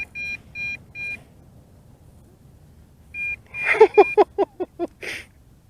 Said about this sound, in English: constant beeping. That means it is doing the return to home